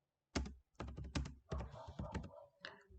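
A name being typed on a computer keyboard, quick close clusters of crisp key clicks with brief pauses between bursts, no voices.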